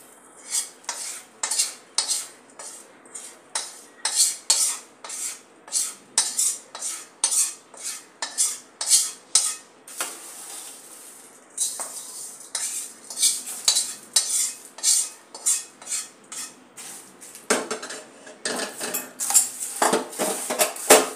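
A spoon scrapes and clinks through fried poha chivda as roasted masala is mixed in, with steady, repeated stirring strokes close up and no talking.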